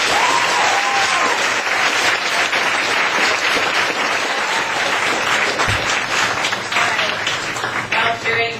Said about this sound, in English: I want everybody to give her another round of applause